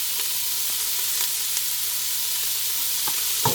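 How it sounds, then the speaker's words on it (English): Onions and serrano peppers sprinkled with salt fry in a pan, giving a constant close hiss and sizzle with a few faint crackles and no voices. "I'm just going to cook that until our onion is starting to brown."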